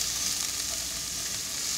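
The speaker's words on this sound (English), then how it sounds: "Oh, listen to that sizzle." Steady, crackling sizzle of onions and garlic frying in hot olive oil, close and continuous with no talking.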